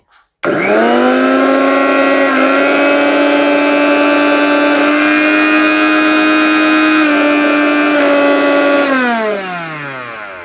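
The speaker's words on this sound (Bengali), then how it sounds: "আমি একটু দেখাই এটা ব্লেডটা কত স্পিডে ঘোরে দেখেন আমি প্রথমে এক নাম্বার দিচ্ছি" A Miyako mixer grinder starts up on speed one with a sudden loud motor whine that holds steady and high for about eight seconds, then winds down with a falling pitch, and no voices.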